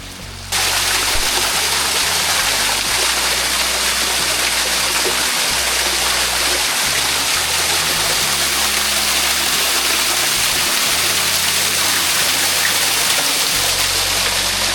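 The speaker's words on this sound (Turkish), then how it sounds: "Şurada güzel mevsimlik bir ufak şelale var." A small seasonal waterfall beside a nature walking trail in a national park near Davutlar, Kuşadası, heard as a loud, steady broadband rush of falling water that starts abruptly and continues unbroken, with no voices.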